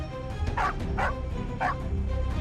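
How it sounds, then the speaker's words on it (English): A dog barks three sharp times in quick succession, close and fairly loud, over a low background hum. "ran in, barking wildly"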